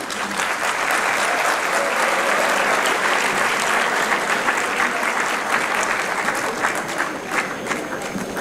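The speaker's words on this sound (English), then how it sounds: "I think we all should stand for A round of applause." Conference attendees give a standing ovation, loud and dense continuous clapping filling the hall for several seconds before easing slightly at the end.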